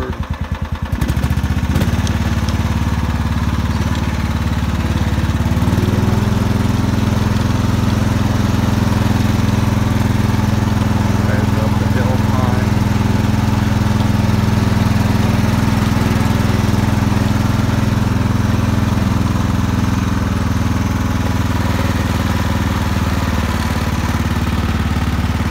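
Kubota T1560 lawn tractor engine idling steadily for the full length, a loud, close mid-pitched drone with a brief clatter as it starts and a slight shift in tone as the tractor drives forward then backward on autothrottle.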